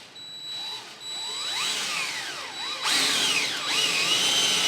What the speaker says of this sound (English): I'll drill the other holes that I will need later.